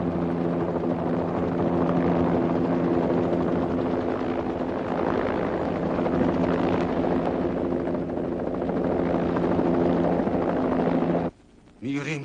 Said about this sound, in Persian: هلیکوپترایی که میگفتی اومدن.